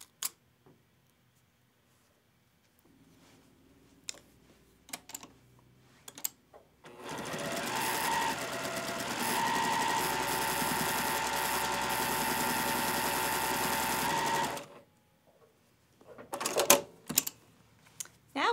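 Sewing machine stitching rows of a quilt block runs steadily for several seconds, close by, framed before and after by scattered clicks and handling noises from pinning fabric.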